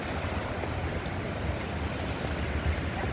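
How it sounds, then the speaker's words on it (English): Steady wash of waves breaking against rocks, a continuous loud surf roar with no voices. "The sound of the waves crashing into the rocks."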